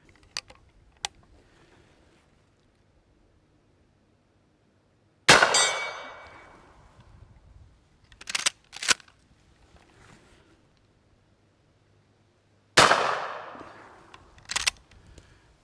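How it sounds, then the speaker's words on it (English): Winchester 94 .357 Magnum lever-action rifle firing .38 Special rounds: two sharp, loud reports several seconds apart, each with a short decaying ring, separated by metallic clicks of the lever action. "first we're going to shoot the 38 Specials"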